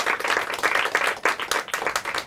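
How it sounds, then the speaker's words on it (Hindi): Dense applause from a school audience at a Hindi quiz competition, a steady wash of many hands clapping at close range, continuous throughout. "इनके लिए भी जोरदार तालियां हो जाए।"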